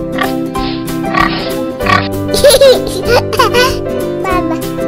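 A cartoonish pig oink sounds in a children's animal song, repeated short grunting calls over steady music with a sung voice.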